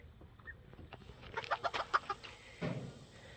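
Golden Sebright chickens in a small cage give a quick run of soft, close clucks, with a lower cluck trailing after a short pause.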